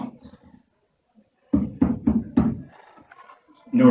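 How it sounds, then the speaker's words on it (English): Four quick, evenly spaced knocks land close and fairly loud, as if on a door, with soft talk just before and right after. "So I knock on the door."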